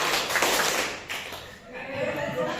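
Teachers and staff at a high school workshop clap in a counted pattern, a few separate, sharp bursts of group clapping spaced apart, with talking between them.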